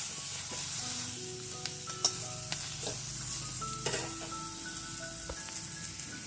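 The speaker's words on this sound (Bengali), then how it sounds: "বেগুন ভাজা করছি।" Slices of brinjal fry in a pan, a continuous soft sizzle with occasional scrapes and clicks of a spatula stirring, close and fairly quiet, with no talking.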